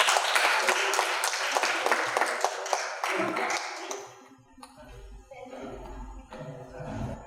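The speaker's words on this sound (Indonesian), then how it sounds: "Beri tepuk tangan yang meriah." Sustained, lively applause from an audience at a university orientation event, dense clapping for about four seconds that fades out into quieter room noise and scattered claps.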